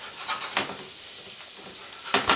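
Fresh garlic and herbs frying in a pan as they are stirred, a soft continuous sizzle broken by a few brief scraping bursts from the spoon, close and moderately loud.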